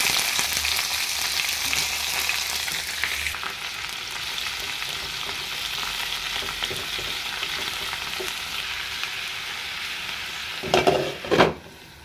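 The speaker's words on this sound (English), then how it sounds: "Deep fry." Garlic, onion, hog plum and red chili deep frying in a pan, with a loud continuous hissing sizzle that eases slightly partway through, then a brief burst of stirring and clatter near the end, close, with no talking.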